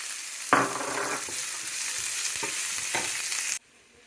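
Chopped onion hits a hot pan with a sudden loud sizzle that settles into steady frying, with a few stirring scrapes along the way, before cutting off abruptly near the end.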